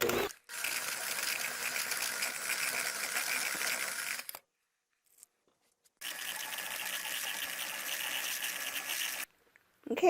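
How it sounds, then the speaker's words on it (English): A kitchen blender pureeing cooked sweet potatoes, whirring in two steady bursts of several seconds each with a short pause between them, close and fairly loud. "So let me go ahead and get these blended up"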